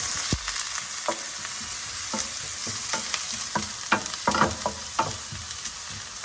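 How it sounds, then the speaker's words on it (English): Carrots for a vegan coconut thoran stir-fry sauté in a pan, a constant close sizzle broken by repeated scraping and tapping strokes of a spatula stirring the pieces. "And I'm going to saute it."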